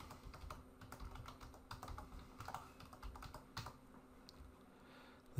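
A password being typed on a computer keyboard, with quiet, quick key clicks in an irregular rhythm, faint and close, running throughout without talk.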